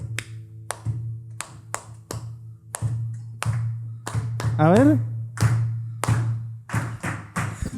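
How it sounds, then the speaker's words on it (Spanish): A live audience claps along in rhythm at a Spanish-language talk, sharp hand claps recurring steadily over a sustained low musical drone, with a person speaking and a brief melodic vocal passage in the middle. "¿Nos pueden ayudar con las palmas, que es así?"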